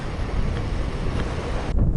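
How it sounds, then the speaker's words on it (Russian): Steady wind buffeting a microphone on a road in Mongolia, a low continuous rumble that rises and falls slightly, with no voices. "То больше ветер, то меньше ветер."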